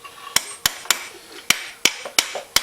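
A hammer taps a bearing into a Honda Recon 250 ATV's swingarm seven times at an uneven pace, each strike a sharp, bright clink close by, with no talking.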